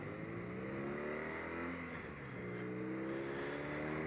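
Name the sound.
2018 BMW R nineT motorcycle engine revving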